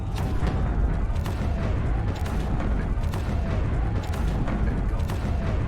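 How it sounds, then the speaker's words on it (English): Deep, rumbling booms of Ottoman heavy cannon fire bombarding the walls of Belgrade in 1521, over a continuous low roar, dense and loud with no clear pauses. "the Ottoman Sultan gave the order to the cannons to hit the walls again"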